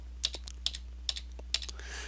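Typing on a computer keyboard produces a handful of sharp, close key clicks in small uneven bursts over a low steady hum, with no talk.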